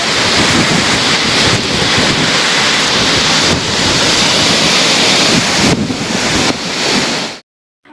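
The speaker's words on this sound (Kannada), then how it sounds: "ಇವತ್ತಿನ ವಿಡಿಯೋ ಬಂದು ಹೆಬ್ಬೆ ಫಾಲ್ಸ್" Hebbe Falls, a 551 ft waterfall near Chikkamagaluru, gives a loud, steady rushing roar mixed with wind buffeting on the microphone, then cuts off abruptly near the end.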